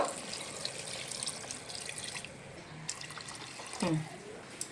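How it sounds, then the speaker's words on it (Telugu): Water is poured into a cooking pot for a boti liver curry, making a soft, steady trickling and splashing near the mic with a brief gurgle toward the end; a voice speaks faintly at moments. "ఇంకా వాటర్ పోసేస్తున్నాండి నేను."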